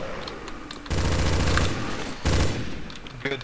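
Rapid automatic gunfire in Counter-Strike: Source zombie escape play comes as two loud, dense bursts over a busy background of game sound, with a brief lull between them.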